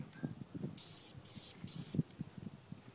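Three short bursts of hissing spray from an aerosol can, with soft knocks and handling noises around them.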